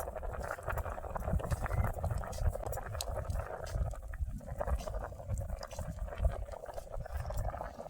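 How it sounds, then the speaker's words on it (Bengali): Potatoes and peas boil in a covered pot over a stove, giving a soft, steady bubbling and light patter that stays fairly quiet throughout. "এই দেখুন কেমন আলুটা ফুটছে দেখুন,"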